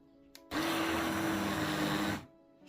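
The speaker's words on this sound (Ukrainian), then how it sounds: "І ось це все будемо перебивати блендером." An electric blender purées chopped vegetables with sour cream for millet patties, a loud, steady whirring roar that starts abruptly, runs about two seconds and cuts off, with quiet room tone on either side.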